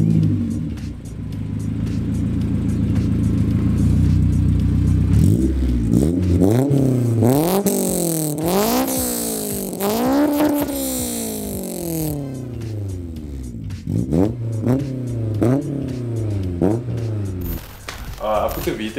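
A Honda S2000 fitted with a cold air intake and aftermarket exhaust idles, then revs repeatedly in rising and falling sweeps, loud and close, with people talking over it.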